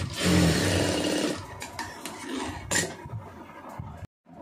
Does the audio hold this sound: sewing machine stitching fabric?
yes